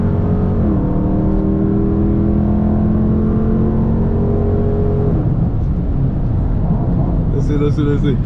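A car engine revving and accelerating during an attempted street race, a loud droning roar that holds steady and then shifts pitch midway, with a brief voice near the end.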